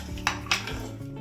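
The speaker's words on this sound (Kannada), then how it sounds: "ಈ ಕುಕ್ಕರ್ ಓಪನ್ ಮಾಡ್ತೀನಿ" A stainless steel pressure cooker lid being opened and lifted after cooking dal for holige, giving two sharp metallic clanks close up, followed by softer rattling of metal.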